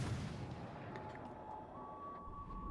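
Warship guns firing in World of Warships: Legends, a low rumbling boom from heavy naval artillery with a dull roar beneath a steady game tone, distant and fairly muffled.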